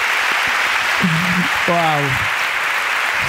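Audience applause on a podcast set, a steady wash of clapping throughout with a short spoken exclamation over it.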